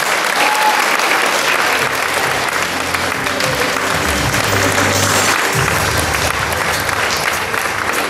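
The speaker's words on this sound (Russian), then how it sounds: "Поэтому прошу еще раз аплодисменты." Sustained audience applause at a cultural awards ceremony, loud, even clapping from a large crowd lasting several seconds with no break.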